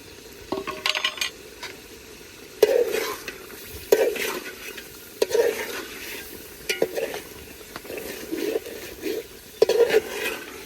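Fried eggs and fried potatoes being mixed into sizzling masala for egg biryani, with a soft frying hiss under repeated, rhythmic scrapes and clanks of a spoon against the pan.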